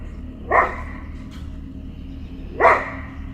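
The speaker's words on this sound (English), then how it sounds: "his dog went berserk and began barking non-stop at" A dog barks twice at something in the woods, two loud close barks about two seconds apart over a low steady background hum.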